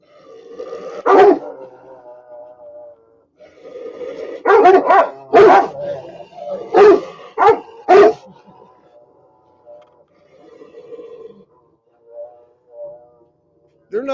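Several dogs bark and growl at each other in bursts, sharp loud barks clustered around the middle with lower growling and whimpering rumbles between, close by, separated by quiet gaps.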